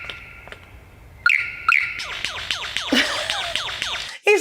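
A superb lyrebird mimics a laser gun, rattling off rapid descending zaps and chirping whistles in a quick, loud, close sequence after a few quieter calls, with no talk over it.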